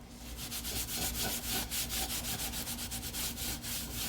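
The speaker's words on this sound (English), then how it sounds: "And I'm going to wax that edge." Wax rubbed onto a wooden edge, a close steady rhythmic brushing scrub of quick back-and-forth strokes, soft in level and continuous throughout.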